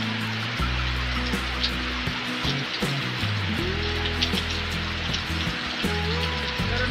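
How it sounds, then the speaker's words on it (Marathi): Heavy monsoon rain pours over flooded village fields in Konkan, a dense, continuous hiss of drops on surfaces, with a steady low tonal hum running underneath. "पाऊस आता एकदम जोरात पडायला लागलाय"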